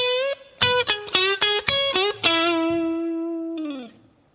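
Electric guitar with effects plays a lead phrase: a quick run of picked notes with bends, ending on a long sustained note that bends and fades, alone and close.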